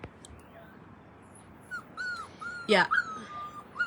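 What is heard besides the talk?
puppies whimpering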